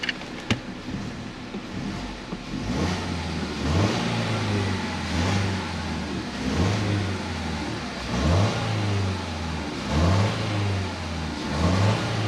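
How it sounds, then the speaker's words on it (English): A gasoline car engine with multiport and GDI fuel injection, during a fuel system and induction cleaning, idles roughly and is revved by repeated quick throttle blips, about eight rising surges at a steady rhythm, close and loud. "We're gonna blurp that throttle a few more times"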